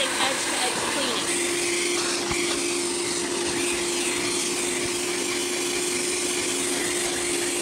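An Aqua Pro Vac extractor draws suction continuously while detailing a car's upholstery, a loud steady motor whine with a constant tone and slight fluctuations.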